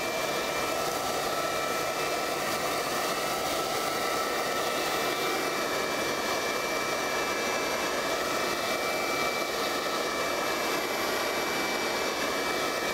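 A powerful leaf blower runs steadily throughout, a loud, continuous close-up roar of rushing air with an even, unbroken hiss and no talking.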